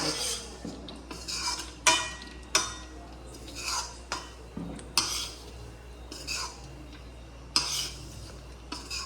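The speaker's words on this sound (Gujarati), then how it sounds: "ઘી ગરમ કરીને અને રેડી તે મેં અંદર લોટ નાખી દેવાનો. અને પ્રોપર રીતે મિક્સિંગ કરી નાખવાનું." Flour stirred into hot ghee in a pan, with a spoon clinking and scraping against the metal in repeated sharp knocks over a faint low hum, nearby and without speech.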